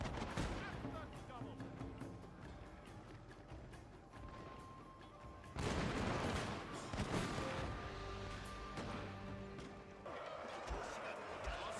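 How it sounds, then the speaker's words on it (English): Matchlock gunners in the Shogun 2 strategy game fire a volley as a dense crackle of shots over a loud, continuous battle din. The racket swells sharply partway through. "I let my matchlocks get off another volley before retreating them to safely behind our Yari wall."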